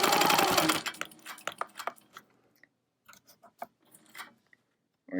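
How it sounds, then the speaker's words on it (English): A Handi Quilter Avante longarm quilting machine stitches around a hexagon on a wholecloth quilt: a loud, dense run of stitching at the start, then short bursts with gaps as it pauses at the corners. "I'm going to go ahead and stitch around this hex, pausing a little bit at the corners"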